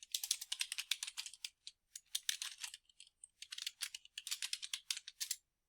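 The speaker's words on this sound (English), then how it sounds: "Press enter once, tab, type in the next line." Rapid, quiet clatter of keys on a computer keyboard while entering notary details into a document, in bursts of quick keystrokes separated by brief pauses, including a few spaced single presses.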